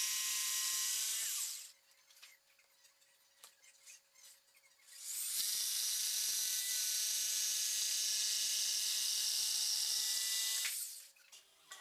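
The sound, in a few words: jigsaw cutting cabinet sides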